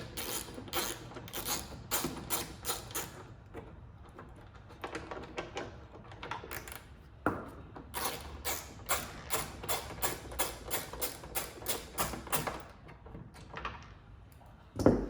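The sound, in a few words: removing two 8mm bolts from Honda Accord trim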